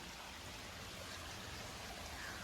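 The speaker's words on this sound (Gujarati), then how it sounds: "આ પથ્થરની નીચેથી પાણી નીકળે છે" Spring water flowing out from beneath a rock on a hillside makes a faint, continuous trickling rush, steady and even throughout, with no voices.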